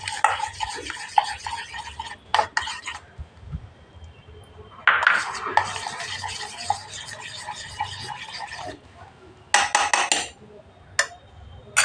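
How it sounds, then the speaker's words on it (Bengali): Neem soap mixture with aloe vera being stirred in a pot, bursts of scraping and clinking from a utensil against the pot, stopping and starting, close and moderately loud. "অ্যালোভেরাটা দিয়ে দেবো, দিয়ে সঙ্গে সঙ্গে নাড়তে হবে, নাড়া বন্ধ করলে হবে না।"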